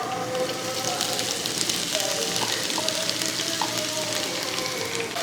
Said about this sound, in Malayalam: അതൊന്ന് ഇളക്കി കൊടുക്കും ഈ സവോളയും ഇതൊക്കെ ഒന്ന് നല്ലപോലെ ഒന്ന് വഴറ്റിയെടുക്കണം